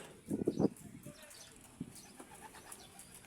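Pigeons coo in a short low burst near the start, followed by a fainter single coo against quiet background noise.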